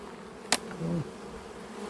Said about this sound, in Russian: Ну, пчелы, конечно, еще есть.